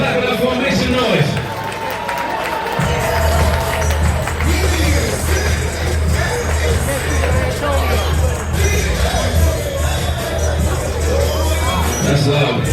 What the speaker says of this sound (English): Everybody clap it up for him. Make some noise.